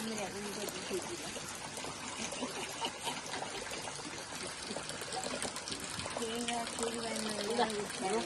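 Water trickles and gurgles as it flows into a rice paddy field during planting, a continuous splashing stream close by, with people talking over it.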